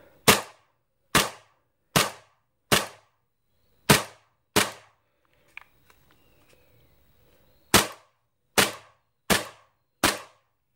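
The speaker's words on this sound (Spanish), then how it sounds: "ahora veréis cómo la corredera al disparar para poder hacer la muestra no se queda atrás" A Tokio Marui Hi-Capa Dual Stainless airsoft pistol fires sharp, loud, close snaps, six in a steady rhythm and then five more after a pause filled with faint handling clicks, each shot cycling the slide.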